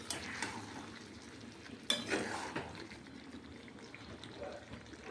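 Potato and pointed gourd cook in a pan with a quiet sizzle, stirred with a utensil that gives a sharp clink and scraping sounds, plus faint background voices.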